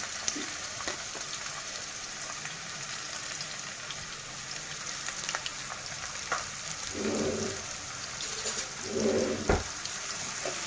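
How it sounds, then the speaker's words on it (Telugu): Chopped onions and green chillies fry in hot oil with a steady, even sizzle up close, broken by a few louder bubbling spurts near the end. "ఆయిల్ కాగిన తర్వాత మనం సన్నగా తరిగి పెట్టుకున్న ఆనియన్స్ని ఇందులో యాడ్ చేసేసుకోవాలి"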